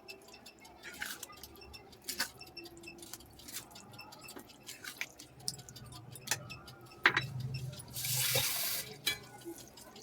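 While manchurian cooks in a pan, scattered utensil clinks and taps lead up to a brief, louder rush of water poured in near the end, heard close and without talk.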